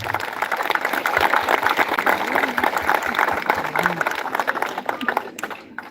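Audience at a charity concert in a village hall applauding, dense continuous clapping that stays loud and fades slightly toward the end.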